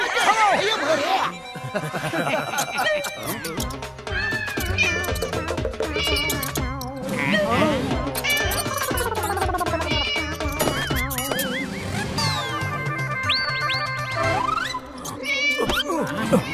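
A cartoon cat meows repeatedly over a busy, loud animated soundtrack of music and effects, with chuckling and voices mixed in throughout.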